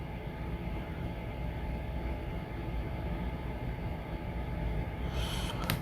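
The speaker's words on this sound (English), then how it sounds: "The unnamed women locomotives puffed along the main line." Steam locomotives puffing along a main line on a preschool toy railroad, a steady dense rumbling chug that stays loud and unbroken throughout, with a brief brighter hiss or squeal near the very end.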